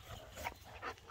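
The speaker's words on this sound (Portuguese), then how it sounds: "Cadela muito bonita, uma matriz chocolate." A large seven-month-old chocolate female dog makes faint, soft sounds, brief snuffling and light whimpering, quiet and close with no talking during it.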